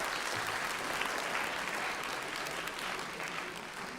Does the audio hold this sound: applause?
yes